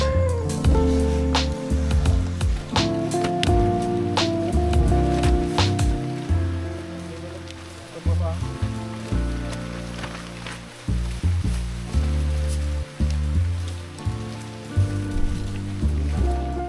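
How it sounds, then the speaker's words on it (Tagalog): Rain falls steadily during a climb of Mount Pulag on the Akiki "Killer" trail, a dense, continuous patter that stays loud throughout, with low rumbling and clattering layered underneath. "Ulan guys."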